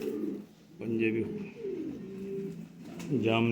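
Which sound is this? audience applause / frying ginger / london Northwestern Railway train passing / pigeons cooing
pigeons cooing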